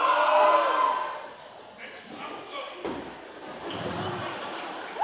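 Convention audience at a cosplay contest cheering in reply: a loud burst of whoops and shouts fading within a second or two, followed by scattered calls and a low crowd murmur, with a voice among them.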